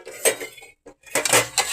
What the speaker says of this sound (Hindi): चले भाई, हमारे बर्तन धोने की अब बारी आ गई है।